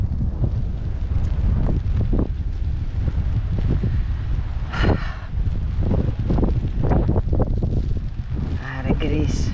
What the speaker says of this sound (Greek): Είδα εδώ ότι ο αέρας φυσάει.